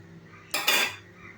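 A metal steaming stand is set down into a wide pan on a gas stove, giving two quick metallic clanks in close succession, close and fairly loud against a quiet kitchen.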